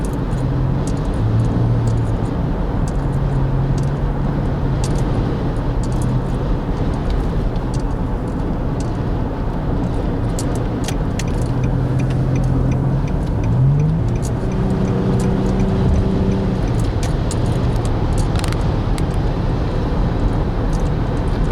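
Nissan Murano SUV engine drones steadily while driving, with a constant road roar and faint tonal shifts as it accelerates and changes gears, close and continuous with no talk.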